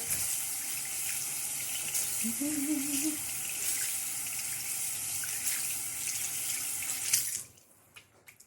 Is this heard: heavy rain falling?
no